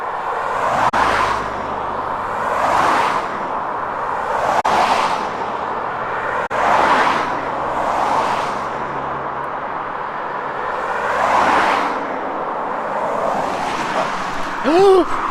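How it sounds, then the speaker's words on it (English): A Porsche SUV with Andorra plates passes on a rural road near Foix, France, one of several vehicles whooshing by in repeated swells, loud and close, with a voice talking briefly over the traffic. "It's an SUV Porsche, but it's a Porsche. With Andorra plates."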